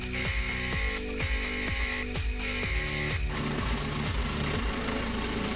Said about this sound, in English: then the teeth were cut into the knurl